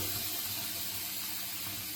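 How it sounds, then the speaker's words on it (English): Hot water from cooking oxtails is poured out into a sink, a steady, loud, close rush of splashing liquid that runs without a break. "by just simply dumping this water out into the sink"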